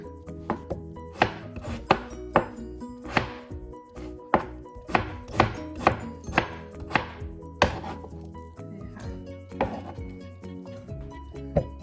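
Close, crisp knife chops on a cutting board as celery is cut into small pieces, in a steady rhythm, each sharp tap distinct, with short pauses between runs.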